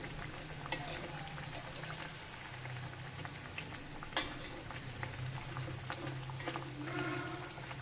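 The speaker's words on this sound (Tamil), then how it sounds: "பொறுமையாக சுட்டு எடுக்கணும் வடையை" Lentil balls for a village-style curry fry slowly in oil over a low flame, a soft, steady bubbling sizzle with a few light taps from a utensil.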